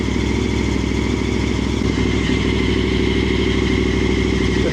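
KTM 1290 Super Adventure V-twin motorcycle engine fitted with an SC-Project exhaust and muffler delete, idling with a deep, bassy, steady throb and slight clatter, loud and close throughout with no talking.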